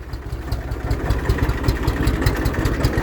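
A tractor engine idles steadily with its PTO shaft engaged, driving a Bartec PT 400 sprayer's pump beside a stream, a continuous low throbbing rumble heard close and alone.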